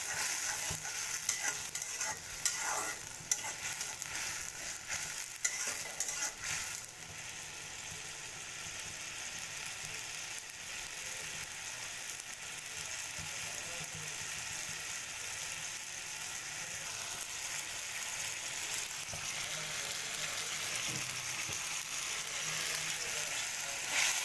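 Panch phoron spice mix sizzles steadily in hot oil in a pan for a taro-stem dish, a continuous bright crackling hiss with occasional scraping stirs and small clicks, close and fairly loud with no voices.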